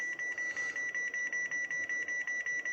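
An Icom IC-9700 VHF/UHF transceiver's amplifier sounds a temperature alarm: a steady, rapid series of short, high-pitched electronic beeps repeating evenly about five times a second, moderately loud over a faint background hum.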